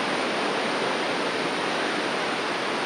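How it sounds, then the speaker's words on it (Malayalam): Steady broadband roar of a tiered waterfall at Aruvikkuzhi, water tumbling down a steep slope in stepped cascades, continuous and close with no voices. "ഇങ്ങനെ തട്ട് തട്ടായിട്ടാണ് വെള്ളച്ചാട്ടം ഒറ്റ വെള്ളച്ചാട്ടമായിട്ടുമല്ല ഭയങ്കര ഒരു കയറ്റത്തിൽ നിന്നും ഇങ്ങനെ ഒഴി ഒഴി ഒഴുകി വന്നുകൊണ്ടേയിരിക്കുകയാണ്"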